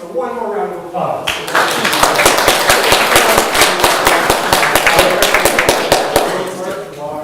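Loud, dense applause from an audience at a talk by an adventurer about the Pan American Highway, with sharp individual claps over a steady roar for several seconds, starting with a brief voice.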